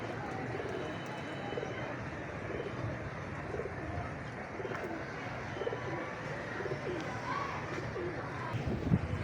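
Pigeons coo softly amid a dense, steady wash of background noise, with faint chirps scattered throughout.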